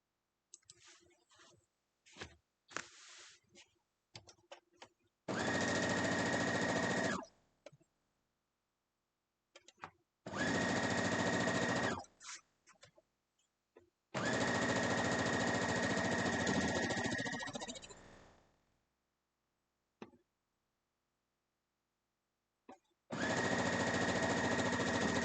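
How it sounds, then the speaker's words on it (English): Sewing machine stitching sashing onto a Harry Potter quilt top, running in several steady bursts of a few seconds each, separated by quiet pauses, handling clicks and soft fabric rustling. "Let's go sew it."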